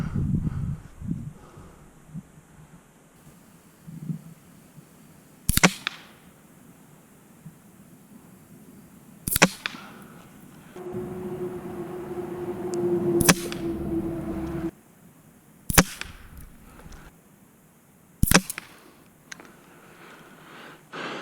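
Air rifle loaded with Crosman Premier Hollow Point 14.3 grain pellets and fitted with a red dot sight, firing five sharp, close cracks spaced several seconds apart, with quiet handling and a brief hum between shots and no talk.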